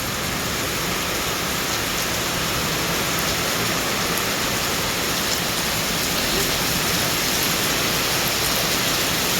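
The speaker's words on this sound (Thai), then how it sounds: "ปีนี้ฝนตกกลางเว้น" Heavy rain pours down steadily in a dense, unbroken hiss, loud and close throughout with no pauses or voices.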